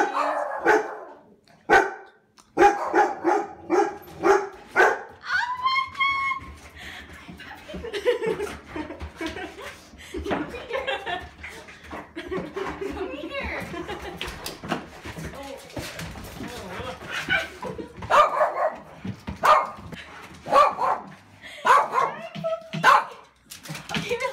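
A dog barks in short bursts amid excited voices and laughter as family members arrive home after a long absence; the barks come and go between stretches of talk.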